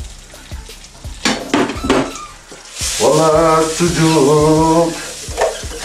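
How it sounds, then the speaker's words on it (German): Sucuk sausage and turkey sizzling loudly in a hot frying pan, with utensil scrapes and clinks against the pan as the meat is stirred; someone speaks briefly at the start. "Sucuk bratet, Pute bratet."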